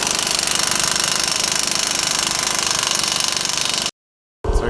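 Loud, rapid hammering of a power impact tool running steadily on the suspension bolts of a 2016-2024 Camaro during a lowering-spring install, then cutting off abruptly before a brief burst resumes.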